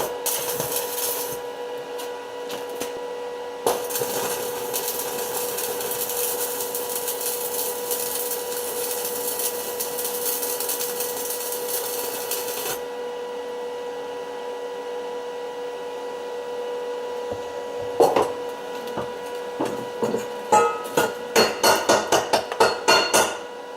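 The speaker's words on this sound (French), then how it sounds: "je vais maintenant pouvoir passer à la soudure." A steel tube is arc welded with a 2 mm electrode at low current, giving a steady crackling buzz for about nine seconds, then quiet, followed by a series of sharp metallic knocks and taps near the end.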